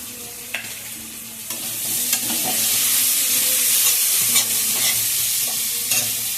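Onion and green chilli frying in a pan, a loud constant sizzle broken by repeated spatula scrapes and stirring knocks, with no voices.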